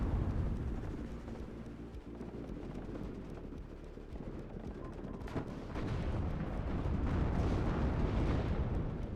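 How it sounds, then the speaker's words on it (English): Battle in the video game WARNO as BMPs and tanks trade fire through buildings, a dense rumbling barrage of cannon and gunfire booms, heavy and continuous, swelling louder toward the end. "BMPs now engaging on the tanks through the buildings. BMP taking a lot of fire."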